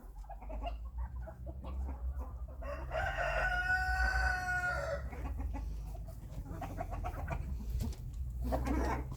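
A rooster crows once on a poultry yard with geese and turkeys, a clear mid-distance cock-a-doodle-doo rising out of low background rumble, with scattered clucks and bird calls before and after.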